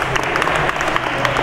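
An audience at a Ramadan special event on Kartini Day claps for a university dean, giving steady, dense applause that fills the whole short moment.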